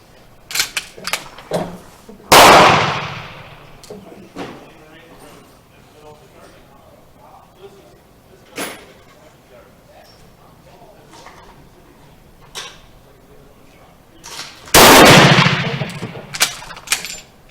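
A Model 1916 Berthier rifle fires reloaded cartridges, two loud sharp shots spaced well apart with clicks and bolt handling between, while someone talks throughout.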